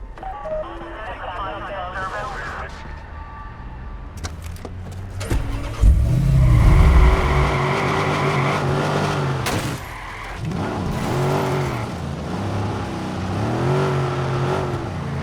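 A car in the video game Watch Dogs starts and drives off, the engine catching and revving up into a steady, loud drive under game music, effects and a voice speaking.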